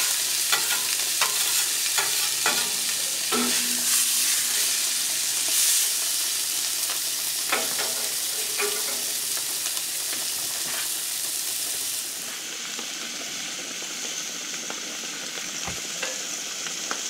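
A T-bone steak sizzles in a pan after its first turn, a loud continuous frying hiss with scattered crackles and pops, easing slightly toward the end, no talking.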